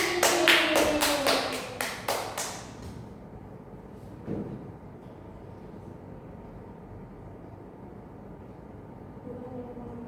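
A short burst of hand clapping from a small group of primary school pupils in a classroom, about three seconds of quick claps, then fading into quiet room tone with faint background noise.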